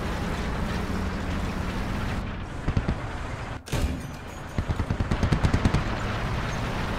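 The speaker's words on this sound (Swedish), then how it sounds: "Kulsprutor är väldigt effektiva på att förstöra wire mesh, tydligen." Machine gun fire tearing through wire mesh in a video game, heard as a dense, continuous roar of gunfire with a sharp break midway, followed by a rapid run of distinct shot bursts.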